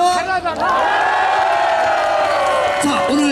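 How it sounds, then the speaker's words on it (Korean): A festival crowd at the Saegomak (new cockle) festival in Yulchon-myeon, Yeosu, cheers and whoops loudly at an outdoor concert, a dense sustained roar with voices rising over it. "박수 합시다."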